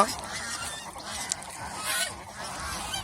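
Geese on a farm honk in short nasal calls over a dry outdoor background, moderately close and fairly faint.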